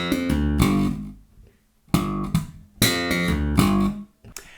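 An electric bass slap lick, slapped note, repeated note, hammer-on and slap, played solo and close, with three clustered bursts of bright percussive attacks separated by short gaps.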